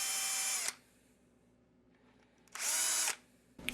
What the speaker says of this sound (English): This is not a countersink, this is a ball carbide burr.